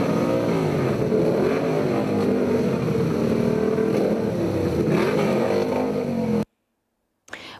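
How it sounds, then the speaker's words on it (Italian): A long procession of motorcycles escorting a funeral hearse to a nearby cemetery, producing a loud, steady, continuous engine roar that holds without pause before cutting out abruptly near the end. "una lunga fila di moto ad accompagnare il feretro al vicino cimitero, seguito da un composto ma assordante rombo di motori"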